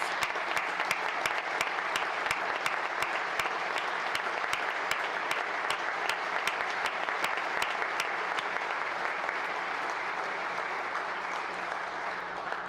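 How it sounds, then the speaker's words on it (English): Steady applause from a crowd at a State of the State address, sustained clapping throughout at an even level, fading slightly toward the end. "Students, yeah, give yourselves a round of applause."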